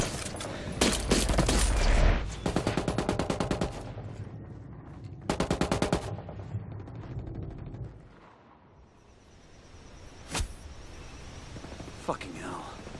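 Machine gun bursts and rapid gunfire ring out in a Ghost Recon Wildlands firefight, loud and close in repeated volleys, then fade to a quieter stretch broken by a single sharp shot.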